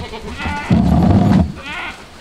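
A mother goat gives a loud, wavering bleat up close, calling for her kids, followed by a fainter, shorter call.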